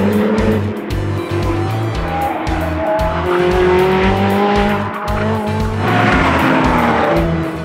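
GT cars race around the 4.185 km Le Mans Bugatti circuit during a Paris GT rally, engines screaming hard and near, with gear changes and tire squeal over a continuous loud racing roar.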